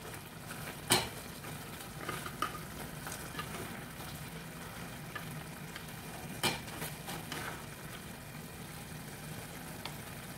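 Chicken adobo in a pan bubbles and sizzles steadily at a low level, with a couple of sharp clinks standing out against the constant simmer.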